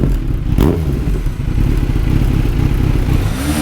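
A Kawasaki Z900 with the dB killer pulled from its exhaust, idling and revving steadily: a loud, close, continuous deep rumble and throaty exhaust roar that holds throughout, with no talk.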